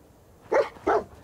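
The dog companion in the Fallout 4 video game gives two quick, close barks in succession, with no one talking.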